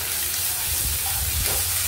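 Ginger paste hitting hot oil in a pan with torn dried red chilli and bay leaf, a steady, close, broadband sizzle and hiss that stays level throughout with no voices.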